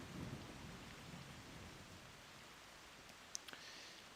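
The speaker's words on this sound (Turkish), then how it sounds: "Arkadan şimşek seslerini duyuyorsunuzdur." Thunder rolling through a rainy summer scene in the mobile strategy game Age of Empires Mobile, a low rumble at the start over steady rain hiss, with a brief sharp crackle near the end.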